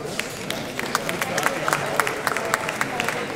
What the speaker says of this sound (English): So a big applause and a big welcome to Patrick Nothen